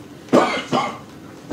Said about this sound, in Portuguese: Está tossindo aqui.